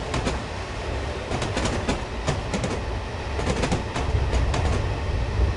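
A Train Simulator locomotive on the Somerset Dorset Joint Railway rolls along the track with a loud, continuous rumble and brisk repeated clickety-clack of wheels over rail joints, close and steady throughout, with no talking.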